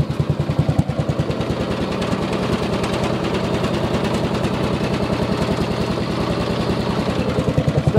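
A Craftsman riding mower's small engine idles steadily and close by, a low, even chugging rumble that holds for the whole stretch with a slight rhythmic pulse.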